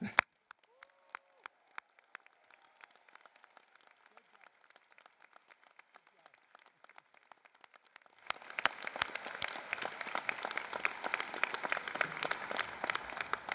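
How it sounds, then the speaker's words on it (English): Graduation ceremony audience at a College of Design convocation, scattered claps at first, then swelling into a sustained round of dense applause from a large crowd. "So let's give them another round of applause."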